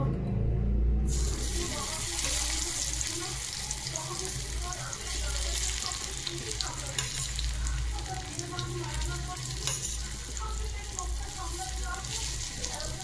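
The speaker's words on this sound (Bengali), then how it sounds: "এই যে আমি তেল আমার গরম হয়ে গেছে এগুলোকে আমি হালকা ভেজে নেবো" Paneer pieces fry lightly in hot oil, giving a steady close sizzle over a low background hum that continues unbroken for the whole stretch.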